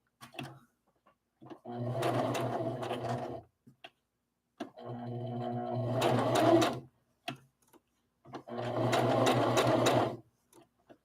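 A sewing machine stitches a rag doll in three steady runs of motor whir and needle chatter, separated by short pauses with small clicks and handling noises, close and clear.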